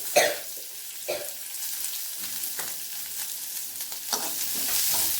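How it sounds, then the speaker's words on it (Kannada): Chopped onions with curry leaves and cumin sauté in a hot pan, giving a soft continuous sizzle broken by a few scraping stirs, close and fairly quiet. "ಸ್ವಲ್ಪ ಈರುಳ್ಳಿ ಬಾಡಿಸ್ಕೋಬೇಕು"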